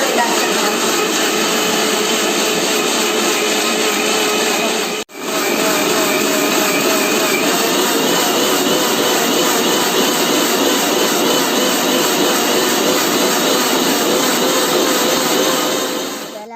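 Mixer grinder whirring loudly in a closed jar, blending a mango ice cream mixture with vanilla essence; a steady, dense motor roar runs throughout, broken by one brief pause near the start before resuming.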